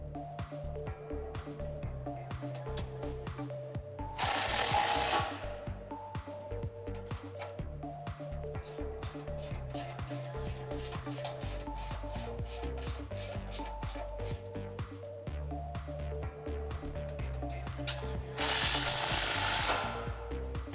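Hardware on a Rugged Ridge Spartan rear bumper is tightened on a Jeep Wrangler JK. Rapid, close tool clicking and rubbing runs steadily throughout, with two louder rasping bursts of a few seconds each.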